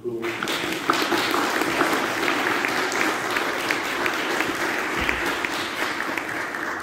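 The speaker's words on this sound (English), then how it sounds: "So let's give Cam a round of applause." A church congregation at Sunday morning worship applauds to welcome a new youth worker, a sustained even round of clapping that starts abruptly and carries on steadily, with a brief word spoken at the start.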